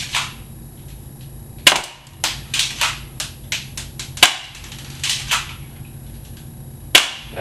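A Crosman Stinger P311 spring airsoft pistol fires BBs at an apple, sharp loud snapping shots at irregular intervals, some in quick clusters, over a quiet background.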